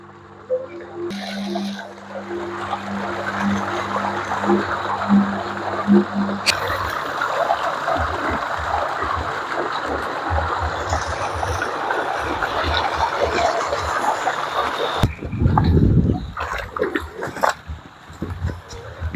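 Water flows from a large irrigation tank through a cement channel on a big cassava farm in Jaffna, a steady rushing gurgle that surges louder near the end, with a low hum early on.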